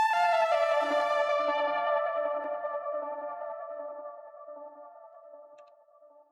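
An Electra X synth preset from a bank in FL Studio plays a single sustained, bright, harmonically rich tone that slowly fades with a buzzy low pulse underneath, cut off abruptly at the end.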